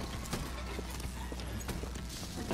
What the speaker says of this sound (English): Is that an electronic horse?